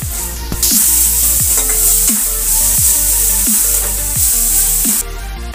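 Vegetable spice mix and sugar fry for Bengali-style ghugni, a loud, close sizzle broken by repeated stirring scrapes at a regular rhythm, with no voices.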